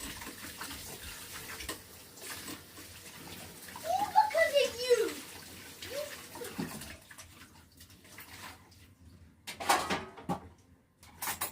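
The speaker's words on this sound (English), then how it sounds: "Now I'm going to wash my hands." Tap water runs steadily as hands are washed at a kitchen sink during cake decorating, the flow moderately loud with a louder burst partway through, mixed with faint background voices.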